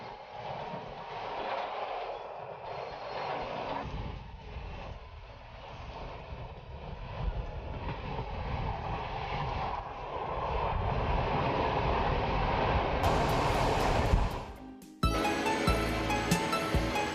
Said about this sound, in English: the train now goes down along the sea for 27 miles to Ungaria